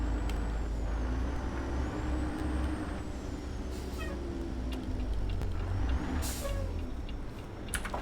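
Heavy truck with a Cummins X15 performance engine in American Truck Simulator, steady low engine rumble throughout with sharp hissing air-brake bursts near the middle and toward the end, loud and close.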